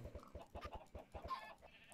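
Chickens in a Minecraft chicken farm clucking in quick repeated bursts, fairly faint and close together, with no talk over them.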